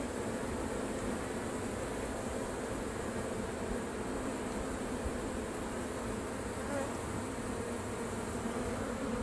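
Honeybees swarm around a hive being removed from a mobile home in Lakeland, Florida, producing a dense, unbroken buzzing drone that stays loud and close for the whole stretch.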